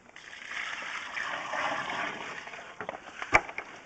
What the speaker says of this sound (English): Get some water running down.